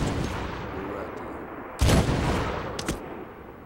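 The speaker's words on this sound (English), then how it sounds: "They're dropping rounds into the tube. Incoming." Mortar rounds fired in a Medal of Honor battle: a loud booming blast partway through, followed by a second weaker thump, over a steady rumble of combat noise.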